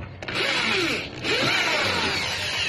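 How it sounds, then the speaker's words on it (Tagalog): A power drill whirs steadily at close range while drilling holes for rivets, briefly dipping in pitch and level midway before spinning back up to full speed. "Kaya malaking bagay ang may barena."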